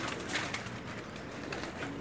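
A pair of Pakistani pigeons cooing nearby, soft low throaty calls repeating over a faint hiss of background noise.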